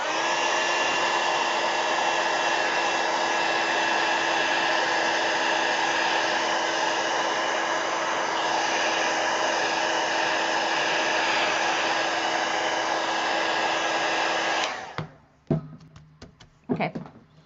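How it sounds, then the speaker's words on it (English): A heat gun blows steadily and loudly for about fifteen seconds over a watercolor painting of a crown imperial flower, a continuous whooshing whine that cuts off abruptly and gives way to a few light knocks and handling noises. "heat gun real quick"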